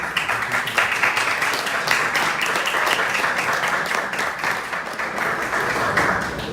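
An audience applauds in a steady, dense wash of many hands clapping, sustained and fairly close for several seconds with no break.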